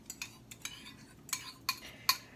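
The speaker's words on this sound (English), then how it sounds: "I'm going to whisk my eggs here" Eggs whisked in a bowl while making spicy onion rings: a handful of quick, bright metallic clinks and scrapes in uneven bursts, close and fairly quiet, with no voices.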